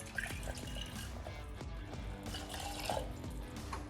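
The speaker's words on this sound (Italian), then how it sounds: "Pulisco il pentolino con un po' di acqua calda" Hot water rinsing a small saucepan in a kitchen sink, with soft continuous splashing, trickling and scattered drips and clinks, fairly quiet.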